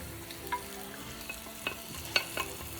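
Faint sizzle of tomatoes being stirred into onion, garlic, caraway seeds and salt frying in a pan, with soft scattered scrapes and clicks of a utensil over a low steady hiss.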